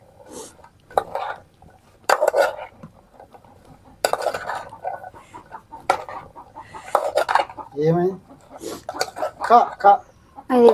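A brooding hen sitting on eggs in a village yard clucks in short, repeated bursts, clearest near the end, mixed with clinking dishes and people talking.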